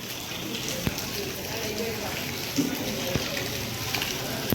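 Steady rain falling outdoors in a continuous hiss with scattered louder drops, a soft backdrop with occasional nearby voices.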